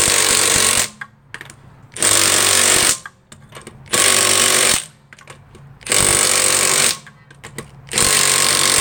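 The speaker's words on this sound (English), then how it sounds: "This Milwaukee 3/8 impact should not have a problem taking those lug nuts off if they were not over torqued." Milwaukee 3/8 impact wrench removing over-tightened lug nuts, loud rattling hammering bursts of about a second each, repeated five times with short pauses between.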